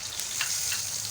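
Tomato paste for Lahori tawa chicken sizzles loudly on a hot pan, a steady close frying hiss with a brief stir.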